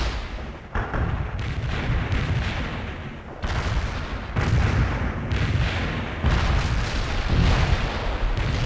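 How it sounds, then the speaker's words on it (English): Mortar strike artillery fire in a war video game, a series of heavy booming blasts and rumbling impacts in fairly even succession, loud and close with no voices over them. "Molotov firing mortars. Mortar strike requested."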